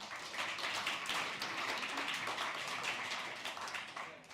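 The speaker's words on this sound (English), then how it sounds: "Again, another round of applause for those who have received this award." An audience at an award presentation claps for the recipients, a sustained patter of many hands at moderate volume that fades slightly at the end.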